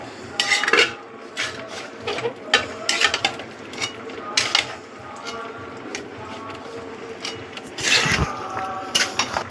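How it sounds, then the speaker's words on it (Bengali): Taro stolons are mixed by hand with mustard and coconut in a bowl, giving repeated clinking and scraping knocks at an irregular rhythm, moderately close, with a voice talking faintly underneath. "এবার সবগুলোকে ভালো করে মাখবো"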